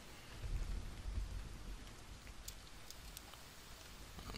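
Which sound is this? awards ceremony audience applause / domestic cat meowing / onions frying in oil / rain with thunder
rain with thunder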